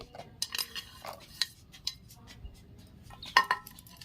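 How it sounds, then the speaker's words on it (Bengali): Spoon clinking and scraping against a bowl while cake batter is mixed with cashews, raisins and candied fruit; scattered soft clinks and taps at close range, with no talk. "ভালো করে মিশিয়ে নিচ্ছি"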